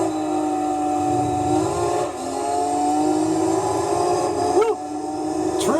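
A car engine in Gran Turismo 3 drones and whines steadily as it drives through the Grand Valley tunnel, with pitch shifts and brief sweeps from other passing cars.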